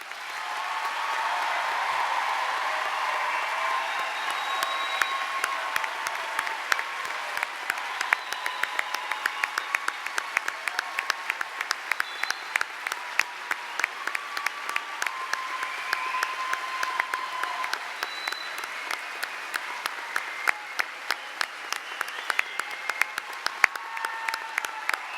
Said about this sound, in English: I'd invite all the graduates to stand and to receive the applause and adulation of the crowd.